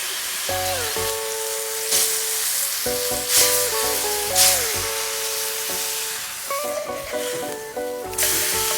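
A whole cluster of oyster mushrooms in marinade sizzles and hisses loudly in a hot pan, a continuous close frying sound with a few sharper crackles and steady tonal music underneath.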